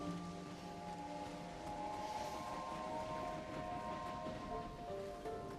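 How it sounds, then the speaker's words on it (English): A train in the video game Clair Obscur: Expedition 33 rolls along with a steady low rumble and sustained droning, whistle-like tones, faint and continuous with no voices over it. "I hear it's a train"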